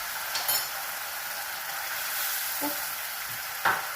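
A fish and okra curry is stirred in a pan, a soft continuous sizzle with a handful of scattered utensil scrapes and taps against the metal, fairly quiet and close.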